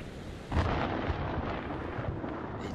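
A storm in the video game Man of Medan sends a rolling thunder rumble that starts abruptly, then lingers as a low sustained roar before slowly fading, heard with no talk over it.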